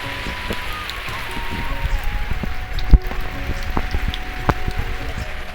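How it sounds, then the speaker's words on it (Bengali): Rain falls outdoors in steady patter, with scattered heavier drips and splats landing nearby over a soft continuous wash and one sharper knock midway. "আজকে ভীষণ বৃষ্টি হচ্ছে জোরে দেখুন একদম প্রচুর বৃষ্টি হচ্ছে চারদিকে"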